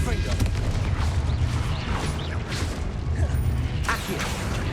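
Spell blasts and impacts from Hogwarts Legacy combat on PC, a dense run of booming bursts and crackling hits over a steady low game rumble, with fainter bursts in between.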